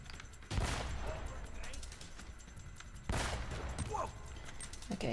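Gunfire bursts from Uncharted: Drake's Fortune, two loud volleys of rapid shots over a low rumbling game backdrop, with someone talking over the action.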